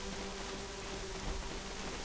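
Steady, dense video game rainfall in Black Desert Online pattering evenly on a surface, constant and fairly close, with no voices.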